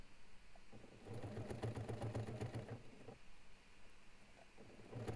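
A sewing machine stitches the side seam of a fabric crossbody bag in a faint, fast, even run of stitching lasting about two seconds, then slows to softer intermittent clatter, with no speech.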